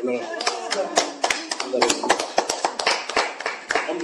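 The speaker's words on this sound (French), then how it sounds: "Mais applaudissons pour le frère, il est bien." Scattered hand claps in a church gathering, sharp irregular claps near the listener mixed with voices and someone speaking, thin rather than a full crowd ovation.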